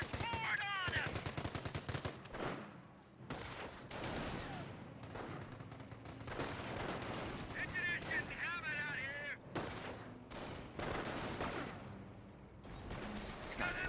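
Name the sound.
30 cal machine gun fire in Company of Heroes video game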